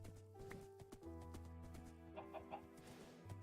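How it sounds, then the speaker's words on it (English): Chickens clucking in the blocky video game Minecraft, short clucks over a steady game soundscape with footstep-like clopping and background tones, quiet and close. "Hello, chickens."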